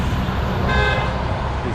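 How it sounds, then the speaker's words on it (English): A brief car horn toot sounds in busy New York City street traffic, heard from a bicycle amid steady road noise as drivers honk at each other. "These guys honking at each other."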